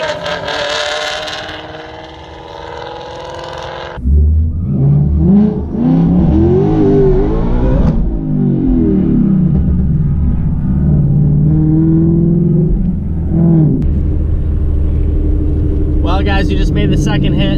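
A drag race car breaks traction on a poorly prepped track, its engine roaring loud and sustained for about ten seconds as the tires spin, with a tonal whine before and voices around it.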